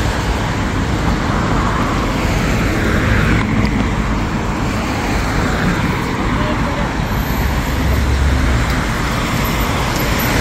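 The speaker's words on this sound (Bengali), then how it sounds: "এটা হাইওয়ে" Steady highway traffic beside a flower-lined walking path in Korea, a continuous loud wash of passing vehicles with no gaps or breaks.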